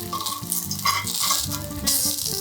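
Breaded goat cheese fries in a pan with a steady, crackling sizzle and some faint stirring or pan clatter, heard up close and with no voices.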